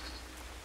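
Rain falls steadily in the Napoleonic-era battle game Mount and Blade: Napoleonic Wars, a faint, even hiss of drops over a low rumble with no pauses.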